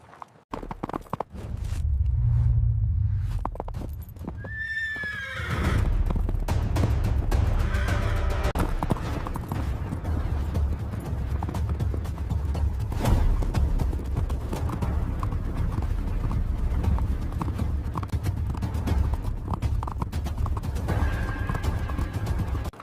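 A horse's hooves clip-clop steadily over ground, an even walking rhythm that goes on for about twenty seconds, with a whinny near the start and faint background noise.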